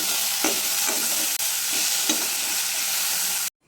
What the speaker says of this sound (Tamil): இப்போ வந்து தக்காளி ஆட் பண்ணிவிட்டு அந்த தக்காளி வந்து நல்லா மசிகிற வரைக்கும் அதை வந்து சாட்டே